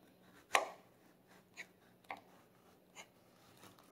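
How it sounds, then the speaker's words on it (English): A kitchen knife slices a vegetable down the middle for a Tunisian spiced fish stew: one sharp, close cut followed by three softer strokes, with no talking. "Slice it down the middle."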